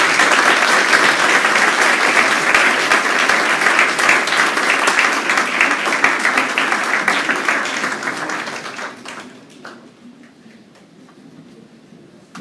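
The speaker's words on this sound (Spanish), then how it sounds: "Fuerte aplauso." Audience applause at a medical society's monthly session, loud and dense, with many hands clapping steadily before it thins out and fades over the last few seconds.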